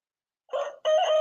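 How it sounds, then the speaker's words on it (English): A rooster crows once, close and loud, in two quick bursts with a short gap between them, against silence. "I'll give you a crow, Kim."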